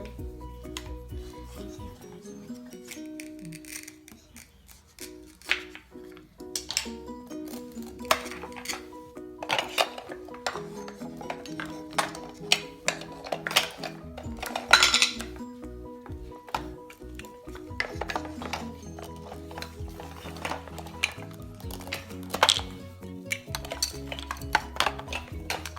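Velcro fruit and vegetable food toys are cut apart with a toy knife, making repeated sharp clacks, scrapes and rubs close up, spaced irregularly over a quiet background.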